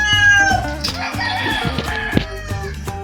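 Roosters crowing and chickens clucking loudly and continuously on a farm, several birds close by, with a steady buzz of farmyard noise underneath.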